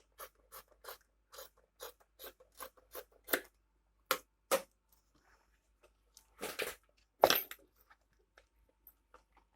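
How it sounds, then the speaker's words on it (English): Scissors snip through extra leather while a mini bag is being made, a close run of quick, evenly spaced cuts followed by a few louder, more scattered snips, with no talking. "then just cut this extra leather"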